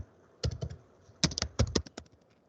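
Typing a password on a computer keyboard: a few isolated keystrokes followed by two quick bursts of clicking keys, close and crisp, with no talk.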